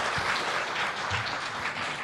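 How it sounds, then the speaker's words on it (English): An audience at an economics conference session applauds the speakers, giving a steady, dense round of clapping throughout. "let's applause all of the speakers together"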